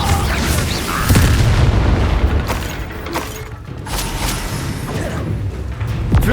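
A Confringo blasting spell explodes in the Hogwarts Legacy video game with a loud, dense booming burst. Crackling debris and further rumbling impacts follow through a busy combat soundscape.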